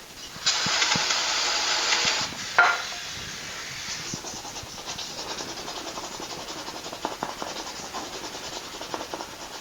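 A sustained, loud hiss of aerosol brake cleaner sprayed onto duct tape residue, lasting about two seconds, followed by a brief burst and then quieter rubbing and wiping noises.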